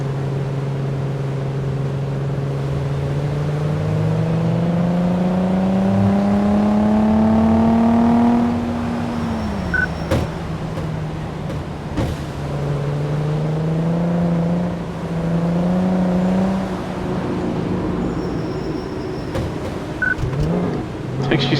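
Engine of a car in the Car Mechanic Simulator 2014 video game, driven on a test track, rising in pitch as it revs and accelerates, then dropping and climbing again; loud and steady throughout with no talk.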